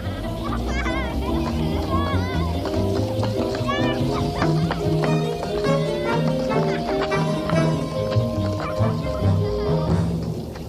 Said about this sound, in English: what the deuce is the matter with the dog?